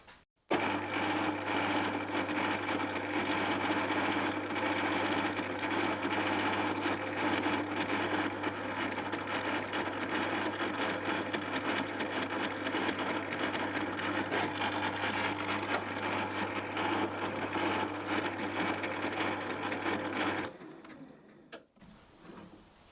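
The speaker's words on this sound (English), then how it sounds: "I'm just going to put a chamfer on that edge" Machining a chamfer on the edge of a cast rear tool post base on a lathe, a loud steady motor hum with continuous cutting noise for about twenty seconds before the machine winds down.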